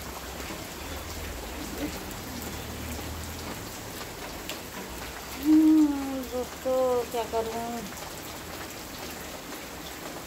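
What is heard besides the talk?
heavy rain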